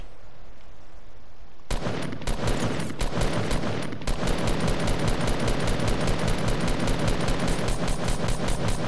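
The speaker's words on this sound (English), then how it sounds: "He's sniping at me." Gunfire in a Fortnite match, including sniper shots, crackles loudly after a short quiet opening and turns into a rapid, relentless string of sharp shots that runs to the end with no talking.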